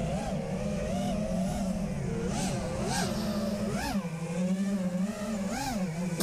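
Small FPV racing drone, an Eachine LAL 5STYLE quadcopter, with its electric motors whining steadily and surging in pitch over and over as the throttle is pushed, loud and close throughout.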